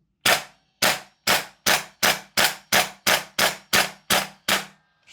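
A Guns Modify SCAR L MK2 gas blowback airsoft rifle fires about eleven sharp, evenly spaced single shots, each a loud close crack with a short mechanical decay.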